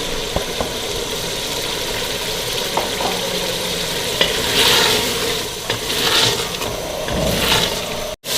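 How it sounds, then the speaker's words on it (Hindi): Minced meat keema and green peas fry together in a pan, giving a continuous sizzle with scraping stirring strokes and occasional clinks, close and fairly loud, without talking. "कीमा भुनने के साथ साथ ही हम डाल देंगे मटर, क्योंकि हमारा कीमा भी भुन जाए और हमारा मटर भी भुन जाए।"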